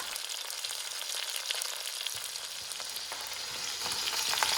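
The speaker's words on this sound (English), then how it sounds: "we're going to let that brown on one side, and then when that's brown, we're going to flip it and brown it on the other side" Seasoned chicken browning in a hot pan for mulligatawny soup, a continuous dense frying hiss that grows slightly busier and louder toward the end, close up with no talking.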